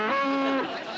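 A single close, drawn-out moo from a cow, about half a second long with a clear tonal pitch, heard alone without talk.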